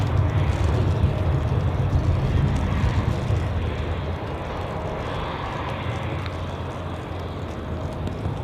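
An airliner takes off at Zurich Airport on a wet runway, its engines giving a loud, broad roar that holds steady and then slowly eases as it climbs away.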